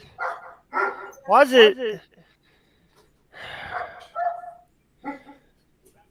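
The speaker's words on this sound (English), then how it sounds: "Sorry about the dogs, ladies and gents." Dogs bark in a few scattered bursts over several seconds, some loud and close, mixed with a man's brief speech.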